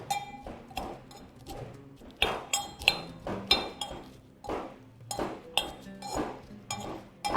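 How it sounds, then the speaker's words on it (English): Garlic is crushed with salt in a mortar using a pestle. Sharp, clinking knocks strike in irregular bursts, some closely spaced, with short scraping grinds between them, close and fairly quiet. "After crushing the garlic"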